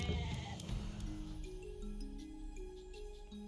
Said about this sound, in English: There's a stray goat. Go home, goat.